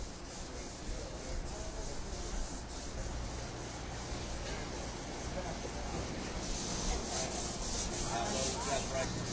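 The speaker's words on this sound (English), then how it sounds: "then they'll go into their sanding operation and chase down any additional defects that you see" Steady abrasive rubbing and sanding on a hard tank surface, continuous and fairly close, with a faint hiss throughout.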